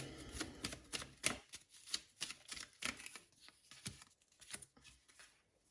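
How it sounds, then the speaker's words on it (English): Tarot cards are shuffled by hand in quick, crisp bursts of riffling and snapping, a dense irregular patter of papery clicks close to the microphone, fairly quiet, with no talking. "And I'm shuffling."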